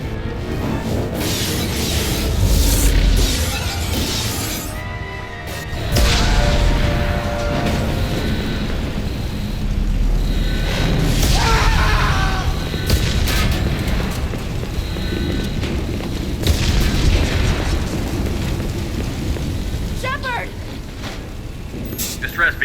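A damaged starship in Mass Effect 2 shudders with booming explosions and crashing impacts under urgent voices and alarms, loud and rumbling throughout.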